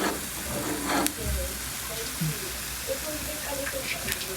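Soft, steady sizzling of pancake batter frying and bubbling in a pan, a faint crackling hiss throughout with a few brief clinks and quiet voices in the background.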